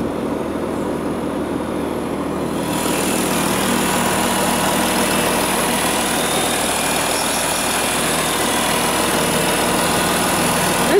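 A Volkswagen Touareg 3.0 V6 TDI diesel engine held against the rev limiter at about 2500 rpm, rising from idle into a steady, loud, sustained drone, heard close up with no talking.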